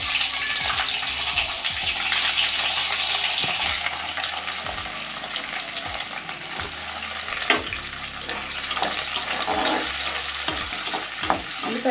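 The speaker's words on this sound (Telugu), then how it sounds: "ఉల్లిపాయలు వేసి ద్వారగా వేయించుకున్నాము." Onions fry in oil in a pan for a cauliflower curry, giving a steady close sizzle with intermittent scraping and stirring knocks throughout.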